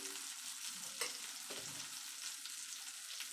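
Veg shami kebab fries in hot oil, a steady, close hiss of sizzling with a brief stir or spatter partway through.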